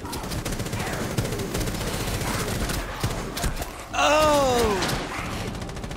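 Rapid automatic gunfire crackles through a Rainbow Six Siege Chimera Outbreak match, steady bursts layered under game sounds, followed by a loud vocal exclamation from a player.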